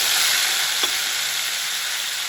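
Tomatoes and green chillies sizzle steadily in a pan as they fry, a continuous hiss with no voices over it.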